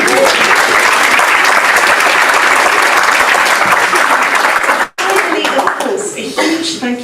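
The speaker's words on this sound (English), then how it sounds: "can you give yourselves a round of applause?" A conference audience on Dartmoor applauds loudly and steadily for about five seconds, breaks off abruptly, then lighter scattered clapping and murmuring resume.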